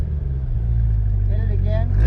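A stock-exhaust Chevrolet Corvette C8 idles with a deep, steady rumble and then swells slightly as it is revved, loud and close, ending in a brief rise.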